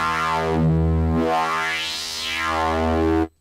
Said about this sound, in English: That's driving the distortion a little bit too much now.